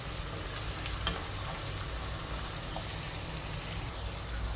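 Two medium tomatoes being stirred into a frying pan on low flame, a soft, steady sizzle with faint scraping from the stirring, close by and with no talking.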